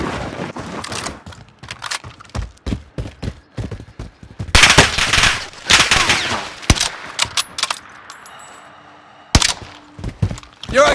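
Gunfire in Call of Duty Warzone comes in loud, close bursts of rapid automatic shots with single cracks, separated by short quiet gaps and heavy impacts.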